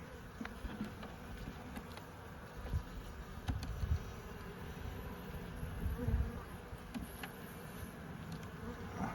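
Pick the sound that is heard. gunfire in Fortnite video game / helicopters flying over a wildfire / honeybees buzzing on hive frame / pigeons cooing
honeybees buzzing on hive frame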